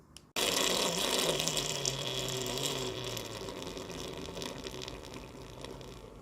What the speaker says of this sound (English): let all the water, or the majority of the water from the main display, drain into the sump